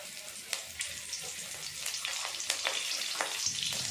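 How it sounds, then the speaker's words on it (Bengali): Bay leaf, green chilli and spices hit hot oil for a fish curry, making a bright, close sizzle broken by irregular sharp pops and crackles that grow busier toward the end; no talking. "ওই তেলে দিয়ে দেব তেজপাতা"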